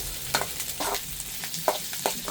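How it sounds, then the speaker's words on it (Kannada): Onion frying in a pan with cinnamon, pepper, cloves and ginger for paneer gravy, a soft steady sizzle broken by several scraping stirs of a spoon, close and fairly quiet, no talking. "ಈರುಳ್ಳಿ ಒಂದು ಸ್ವಲ್ಪ ಕಲರ್ ಚೇಂಜ್ ಆಗೋವರೆಗೂ ಫ್ರೈ ಮಾಡ್ಕೋಬೇಕಷ್ಟೇ."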